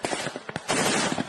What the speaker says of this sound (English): we see the gunfire shooting all around it, getting pretty close